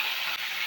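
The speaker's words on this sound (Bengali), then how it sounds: "তো মাছটা আমি ভেজে নিই" Fish fries in hot oil, a dense, even hiss of sizzling heard up close for a brief moment, with no talk.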